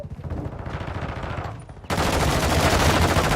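Loud automatic gunfire in a military shooter video game rattles in rapid bursts, then thickens abruptly partway through into a dense, continuous barrage.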